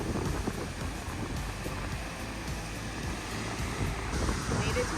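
Ocean waves at a beach wash in continuously under gusting wind that buffets the microphone, with a low rumbling surf and a faint voice briefly in the mix.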